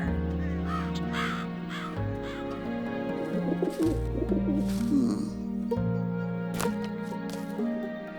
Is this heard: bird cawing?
yes